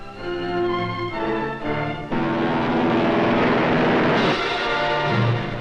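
Navy and Marine planes taking off in a 1945 newsreel, with loud propeller aircraft engines droning and roaring close by, rising into a broad continuous roar.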